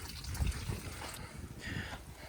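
Water draining out of a farm machine's system, a soft trickling and gurgling close by, quiet and brief with faint background noise.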